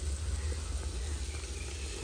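Biryani masala for seeraga samba chicken biryani sautéing in a pan, a steady soft sizzle with a low hum underneath, even and continuous.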